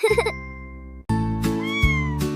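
A cat meows a couple of times, close and clear, its pitch rising and falling in drawn-out cries.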